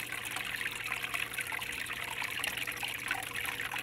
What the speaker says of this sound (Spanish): Su cascada que oxigena y sirve como filtro.